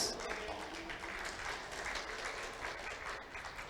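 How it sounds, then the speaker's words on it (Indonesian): An audience claps steadily at a book launch for the poetry book Lusiadi and a Ternate Tidore book, a dense, even wash of applause that holds for the whole stretch with no voices over it. "Iya, boleh beri aplaus."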